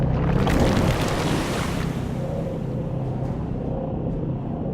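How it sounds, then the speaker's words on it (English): Dam bursting in the Dungeons 2 swamplands, water flooding an enemy camp: a loud, continuous rushing roar of surging water and waves, heaviest at the start and settling into a steady broad wash with low rumble. "The gathered evilness then burst the nearby dam, and the Alliance's camp disappeared under waves of water with a very satisfactory gurgling"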